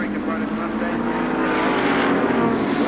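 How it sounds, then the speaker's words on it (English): Racing V8 engine of a Holden Commodore touring car, 5-litre, at speed on a circuit during the 1985 ATCC round at Symmons Plains, a steady loud roar with commentary talking over it. "5-litre V8 power for Brock in the Commodore."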